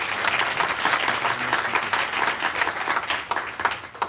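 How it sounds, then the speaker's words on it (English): An audience at an edtech meetup applauds with dense, continuous clapping that stays loud and close for the whole few seconds. "one more round of applause"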